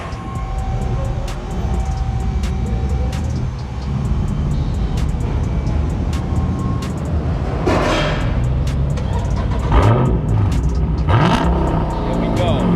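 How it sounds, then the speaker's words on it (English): A 2020 Dodge Hellcat Widebody with a mid muffler delete idles with a loud, rumbling exhaust, then bursts into sharp revs in the second half while people talk nearby. "Rev it up."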